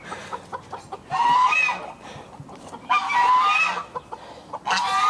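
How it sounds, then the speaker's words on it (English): Chickens at a bird farm, with close repeated clucks and longer squawking calls in bursts, heard outdoors without talk. "What kind of chicken is that?"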